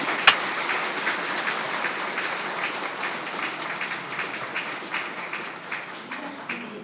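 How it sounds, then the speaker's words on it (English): Sustained applause from an audience at the close of a business forum for global peace in Hiroshima, a dense, steady clatter of many hands held at an even level for several seconds with no voices over it. "please give them another round of applause"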